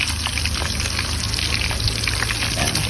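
Pan sautéing for a pork liempo caldereta sauce, a constant close sizzle and crackle of frying with faint stirring ticks and no pause throughout.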